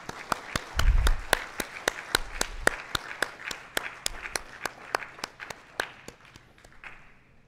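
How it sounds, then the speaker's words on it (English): A round of applause at a university alumni meet, with regular claps standing out distinctly, fairly close, fading out over about seven seconds with no talking. "Can we have a round of applause for them,"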